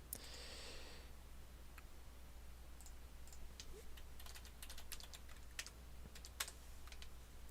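Keys tapped on a computer keyboard while a password is entered on a Windows 7 login setup, giving scattered, irregular clicks over a steady low hum, with a brief hiss near the start and no talking.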